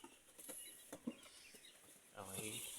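A 28-day-old broiler chicken clucks in a few short, quiet bursts, with faint farm background noise around it.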